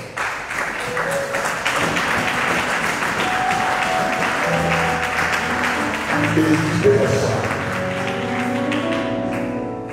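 A church congregation applauds during a service: steady, dense clapping fills the whole stretch, with sustained musical tones running underneath.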